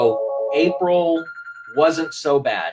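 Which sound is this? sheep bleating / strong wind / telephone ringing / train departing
telephone ringing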